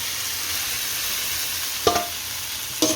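Doodhi methi muthiya dumplings sizzling in a hot pan with oil, salt and curry leaves, a steady close frying hiss broken by two brief scrape-and-clatter stirring sounds near the end.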